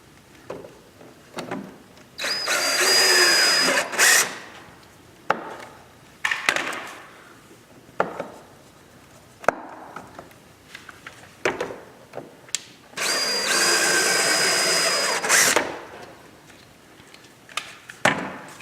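A power drill runs in two long, loud bursts during a vehicle air vent install, with short knocks and taps between them and no voices.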